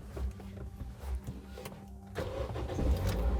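Toyota Yaris car engine starting and settling into a steady idle, close by, with a low rumble growing slightly louder toward the end.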